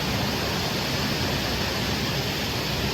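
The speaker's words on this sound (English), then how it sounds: "I love the waterfall." Steady broadband rush of the waterfall at SeaWorld San Diego's Shipwreck Rapids ride, a constant dense hiss of falling water, fairly close and unbroken, with no voices over it.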